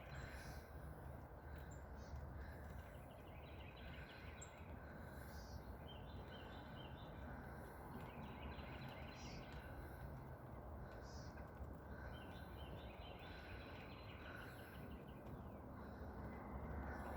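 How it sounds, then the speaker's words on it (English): Crows caw from the trees outdoors, faint and distant against a steady, noisy background hiss, with a few scattered calls and chirps. "Thank you for still being here, Birdie, as I look in the trees for other birdies"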